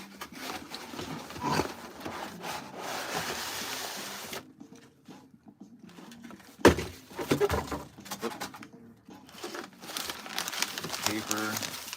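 Paper being crumpled and handled up close, with long crinkling and rustling stretches, a sharp knock partway through, and a person talking intermittently.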